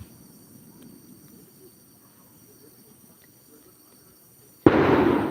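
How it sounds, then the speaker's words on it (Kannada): Firecrackers set off for Tulasi puja break a quiet night scene with faint insect-like hum, bursting loud and close near the end in a dense, crackling, sustained volley. "ತುಳಸಿ ಪೂಜತೆ ಅಂಚ ಪಟಾಕಿ ಜೋರುಡು ಪುಡವೊಂದುಂಡು"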